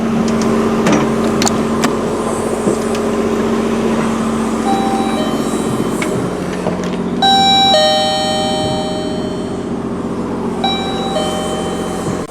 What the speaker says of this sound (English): You ring it, and inside the chime will go off.